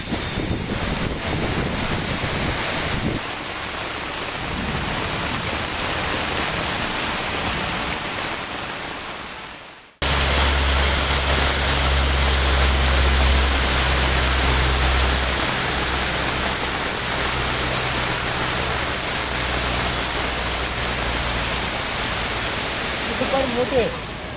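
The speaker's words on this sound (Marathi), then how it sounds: "पुणे शहरात हा जोरदार पाऊस आता झाला असल्याचं आपण बघतोय" Heavy rain pours over waterlogged streets in Pune as a steady, loud wash of broadband noise, with a sharp cut partway through before an even denser roar with low rumble continues.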